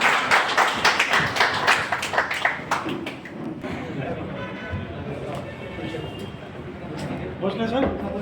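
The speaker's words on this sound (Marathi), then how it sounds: "एकदा जोरात टाळ्या वाजून आपण त्यांचं स्वागत करूया." Audience applause welcoming chief guests at a 5th Royal Maratha Battalion Raising Day event in Latur: dense, loud clapping in the first few seconds that thins out while voices carry on over the crowd.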